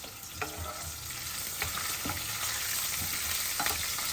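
Cumin seeds frying for jeera rice, a steady close sizzle and crackle with occasional scrapes of a wooden spatula stirring the pan, no voices.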